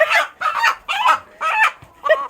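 Farm chickens cluck and squawk in five close, loud bursts with brief gaps between them.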